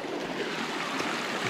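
An alpine mountain stream in the Sierra Nevada flows with a steady, close, rushing babble of water, continuous and even, with no voices.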